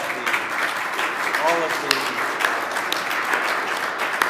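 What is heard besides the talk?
applause for the award winners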